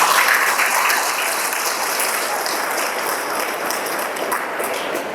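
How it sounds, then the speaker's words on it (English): At a school valedictory ceremony, a large audience claps in a dense, sustained round of applause that fills the room evenly for several seconds and tapers slightly toward the end. "So I would request everyone to give them a huge round of applause."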